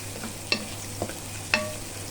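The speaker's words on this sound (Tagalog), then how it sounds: "Ayan, igisa lang muna natin yung sibuyas." Onion and garlic sauté in a pan, a soft sizzle running under three distinct stirring scrapes spaced about half a second apart, close by and with no voices.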